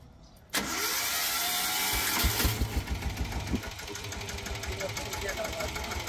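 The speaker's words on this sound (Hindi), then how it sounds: "दोस्तों ये स्टार्ट करने के लिए यहाँ पर से सेल्फ लगाना पड़ता है।" A four-wheel Sanedo tractor engine is started with its self-starter: after a quiet moment it suddenly kicks in with a loud roar and then settles into a steady, knocking, rattling run close by.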